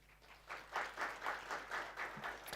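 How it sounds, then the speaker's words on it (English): Faint, distant applause from guests at a 30th anniversary gala dinner of a magistrates' and judges' association comes in soft, rhythmic pulses of clapping. "Can you give yourselves a round of applause?"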